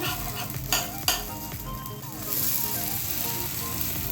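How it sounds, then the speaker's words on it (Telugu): Moong dal dosa sizzles steadily as it fries in oil on a hot pan, with a couple of brief scraping clicks from a spatula early on and a continuous crackle throughout, no talk. "ఇప్పుడు కొద్దిగా ఎర్రగా కాల్చుకుందాం"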